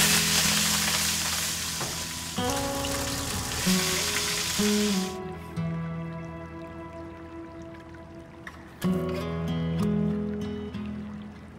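Food fries in hot oil in the cooking of the Tanka boat people, a loud, steady hiss of sizzling that cuts off about halfway, with melodic music playing throughout.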